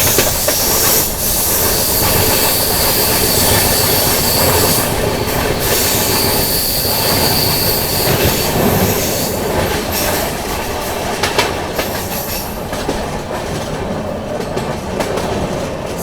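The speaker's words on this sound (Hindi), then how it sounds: "अभी थोड़ी देर में अपनी ट्रेन स्किप करेगी।" An AC Superfast Express (12430, New Delhi to Lucknow) races at high speed through Garh Mukteshwar Bridge station, a loud continuous roar of wheels with hissing, clattering rail joints and brief squeals, heard up close from on board.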